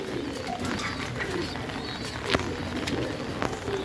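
Large king-size Tonk pigeons coo softly in a loft, low, repeated calls over a steady background hum with faint other bird chirps.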